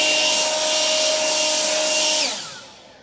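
An Echo 56V battery-powered leaf blower runs with a loud, steady whine and airy roar close by, then winds down sharply near the end as it shuts off, with no talk.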